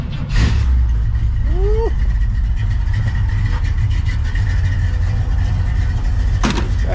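A car engine, a project car said to carry hidden performance parts, cranks and catches, then settles into a steady, loud, rumbling idle close by, with a short whoop from a man at the start.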